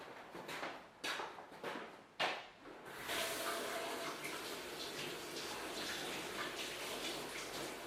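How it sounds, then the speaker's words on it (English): Running tap water pours steadily and close by after a few short knocks and handling sounds, a continuous splashing rush that fits hands being washed under a faucet, with no voices. "I'll just quickly wash my hands and before I finish this off."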